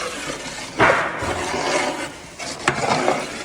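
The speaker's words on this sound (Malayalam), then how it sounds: "ഇനി നന്നായിട്ട് ഇതൊക്കെ ഒന്ന് മിക്സ് ചെയ്തെടുക്കുകയാണ്" A huge 300 kg batch of chicken 65 being mixed with masala for a wedding feast, heard as bursts of wet rustling and scraping that rise and fall, close by with no speech.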